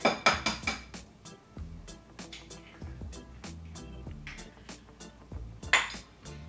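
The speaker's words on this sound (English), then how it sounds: "I always end up just mixing everything together with a fork" A fork clinks and taps against a bowl while beating an egg and vanilla into banana muffin batter, in quick metallic rattles that come in bursts and then settle into steadier stirring.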